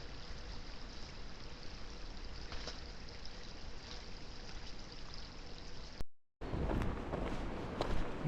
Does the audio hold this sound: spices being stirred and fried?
no